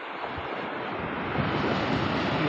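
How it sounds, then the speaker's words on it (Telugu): Ocean waves break on the beach at Tuni in a continuous roaring wash of surf, swelling slightly louder toward the end, with no talking. "అలలు ఇలా వస్తుంటాయి ఫ్రెండ్స్"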